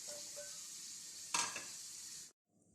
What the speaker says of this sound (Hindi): फ्लेम ऑन करके इसमें प्याज डालेंगे और प्याज को ब्राउन करेंगे